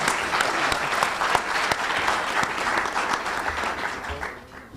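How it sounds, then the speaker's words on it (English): A luncheon crowd gives the head table a full round of applause, dense, even clapping from many hands that holds steady and then begins to thin toward the end. "Let's give them another round of applause."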